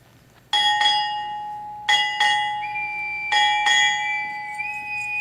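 A bright ship's bell rings six times in three pairs, each double strike leaving a clear sustained ring in a quiet space, at a U.S. Navy retirement ceremony.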